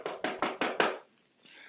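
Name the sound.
knock on a door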